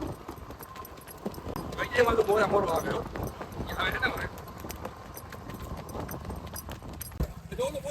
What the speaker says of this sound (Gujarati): બધી ઘોડીની રેવાલ ચાલ અને વછેરી પણ કેવી લાગી